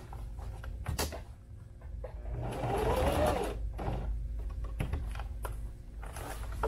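A sewing machine lock stitches leather on a sling saddle, running in a steady close whir with a few sharp clicks and thumps before and after.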